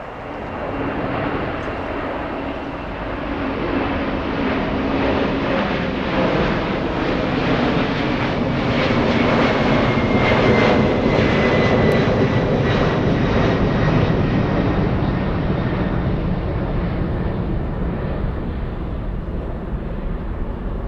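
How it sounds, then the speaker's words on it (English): A Boeing 747-400 jet sits lined up at LAX, its engines giving off a steady, loud broadband roar with a whining hum. The sound holds fairly constant for about twenty seconds, swelling slightly in the middle, and no one speaks. "A 747-400 lined up and getting ready to move."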